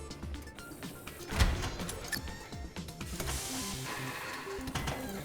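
Pill printer machine set down in the game Big Pharma, with a soft mechanical thunk followed by a steady, faint whirring hum that continues to the end.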